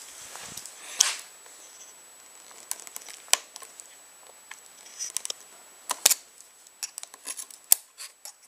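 A knife cuts away a piece at the throttle on a KTM dirt bike's handlebar during a hand-guard swap, giving sparse, sharp snips and small crinkling clicks, close but quiet, with gaps between cuts.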